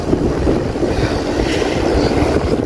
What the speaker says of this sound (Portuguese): Esse vento na cara que relaxa mais.